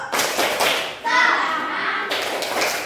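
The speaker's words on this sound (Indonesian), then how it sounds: "Tepuk semangat baru" A classroom of children standing and doing a rhythmic group clap, with loud clapping and thumping mixed with children's voices chanting along.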